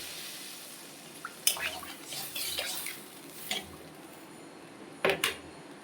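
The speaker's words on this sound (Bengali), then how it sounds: "তো বন্ধুরা আলু কষানো হয়ে গেছে এখন আমি জল দিয়ে দিলাম" Water poured into a pan of sautéed potatoes for a rohu fish curry, with a few short splashing bursts, scraping and clinks of utensils, fairly faint and close.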